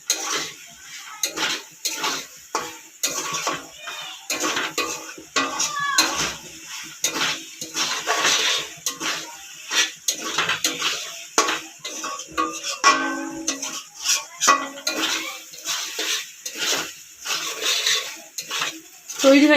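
A spoon stirs chilli capsicum macaroni with sauce in a pan, producing repeated clattering scrapes and knocks in an uneven rhythm, with occasional squeaks against the metal.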